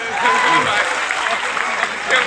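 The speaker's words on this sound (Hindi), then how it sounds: "एक बार जोरदार ताली बजा।" A crowd applauds at an All India Mushaira poetry gathering in Dhaka, Bihar, producing a broad, steady clapping roar while a voice carries over it.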